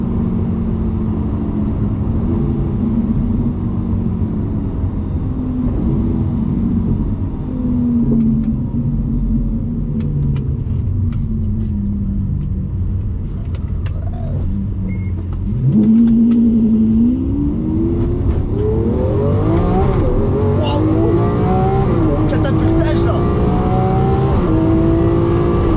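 A Lamborghini Aventador's engine roars from inside the moving car, rising and falling through gear changes, dipping briefly off throttle before a sharp, loud rev surge climbs steeply near the end.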